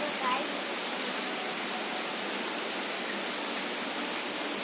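Heavy rain pours outdoors in a sudden downpour, a dense, even hiss with no rhythm that holds steady at moderate loudness throughout.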